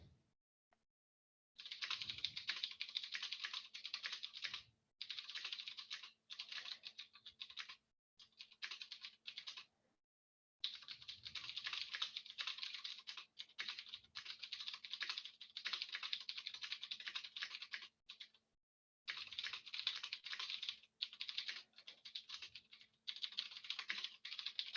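Rapid clicking of typing on a computer keyboard, steady bursts of keystrokes with brief pauses, close and alone.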